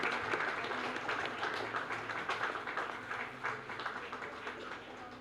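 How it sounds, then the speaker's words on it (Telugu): Faint, distant clapping from a crowd at a Telugu spiritual discourse, welcoming Bala Srinivas, rolls on as an even, continuous patter for several seconds with no voices over it. "గట్టిగా ఒకసారి చప్పట్లతో మా బాలా శ్రీనివాస్ గారిని"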